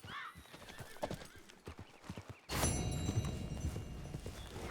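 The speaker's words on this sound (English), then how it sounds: "You're a good filly." In the Red Dead Redemption video game, a horse's hooves clip-clop steadily and the horse whinnies, under a rising layer of game ambience and music-like tones.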